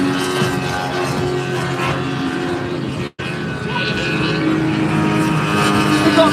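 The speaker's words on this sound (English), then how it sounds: "the little 595 Banshee, 130 horsepower Yamaha powered boat there" A 595 Banshee racing powerboat with a 130 horsepower Yamaha outboard roars past at a race, its engine droning loud and steady with a brief dropout midway.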